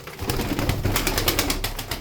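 Pigeons in a fancier's loft coo in soft, low, rolling calls close by, mixed with light rustling and faint flutters, with no one talking.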